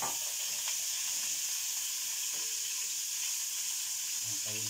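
Pork belly frying in cooking oil in a pan, a quiet, steady sizzling hiss with a few soft stirring clinks, close and alone without talk.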